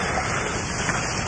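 A heavy rain and wind storm roars steadily and loudly, with a dense wash of falling rain and gusting wind and no voices.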